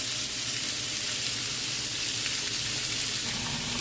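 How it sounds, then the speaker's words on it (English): Rice cooking in a pot for a sausage and rice bowl produces a steady, close sizzling hiss that continues without a break, with no talking. "So y'all see my rice is cooking gracefully."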